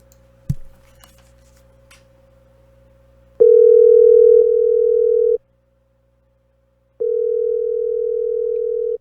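Telephone call tone: a sharp click, then two steady electronic tones, each lasting roughly two seconds, separated by a silent gap, with a faint hum underneath at the start.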